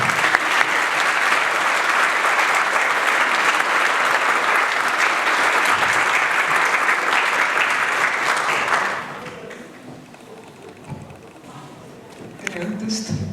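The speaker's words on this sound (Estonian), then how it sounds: "Teeme veel kord sulle aplausi," A village hall audience at an Estonian Independence Day concert in Kõmsi gives cultural organiser Lea a loud, sustained round of applause that ends abruptly partway through, leaving quiet room noise and a few faint sounds.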